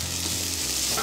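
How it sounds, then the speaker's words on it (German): Diced smoked tofu fries in olive oil in a pan, sizzling steadily and close, with faint stirring scrapes and no talk over it. "wir packen jetzt ein bisschen Olivenöl in die Pfanne und braten den Räuchertofu 3 Minuten an."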